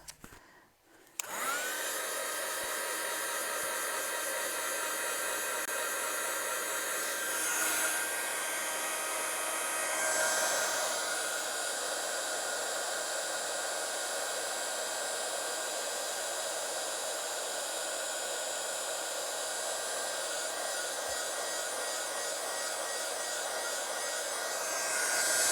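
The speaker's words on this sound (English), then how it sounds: "Heat tool." A craft heat tool blows hot air over a birthday card, starting after a brief pause and then holding a steady, close whir for over twenty seconds.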